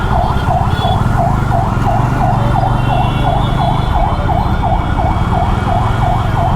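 An ambulance siren wails loud and close in congested Bangalore traffic. Its rapid rising-and-falling tone repeats without a break over the rumble of engines.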